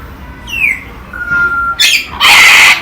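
A bird squawks and calls loudly several times beside a bird enclosure, with a thin whistling note between the outbursts and a harsh, noisy final squawk close to the recorder.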